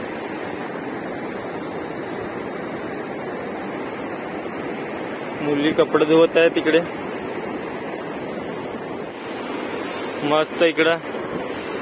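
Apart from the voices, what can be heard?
sound of water at Vadri lake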